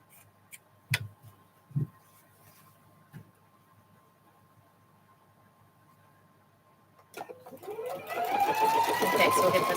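A sewing machine starts up near the end, a rapid whirring burst of stitching on a jelly roll quilt square, preceded by a few quiet clicks and taps in an otherwise still room.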